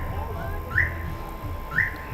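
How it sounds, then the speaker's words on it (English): A car alarm chirps twice in the distance, a faint repeated rising electronic whoop set against outdoor background hum on a city street in the Philippines. "Sounds like a car alarm going off over there."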